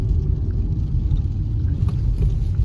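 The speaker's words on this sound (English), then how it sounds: "Driving the bus." A bus engine rumbling while driving, heard from inside as a constant low, heavy drone with slight fluctuations and faint rattles, with no voices.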